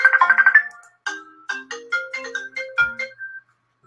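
A phone plays a melodic electronic ringtone for an incoming call, a bright, close run of quick tones followed by a slower phrase that fades out.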